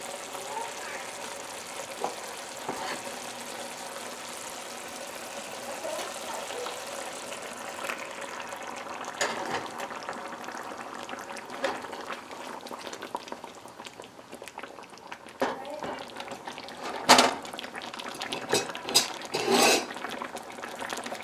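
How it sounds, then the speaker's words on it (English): Liquid splashes into a hot pot of peacock bass fish curry as heated water is added, followed by steady bubbling and sizzling, with a few louder clinks and stirs near the end. "So now it's time to add the water that we've heated there."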